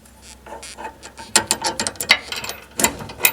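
A ratchet clicks in quick uneven bursts while tightening the rear bolt of a factory tow hook on a 4th-gen Dodge Ram Sport, close and fairly loud with short pauses between strokes.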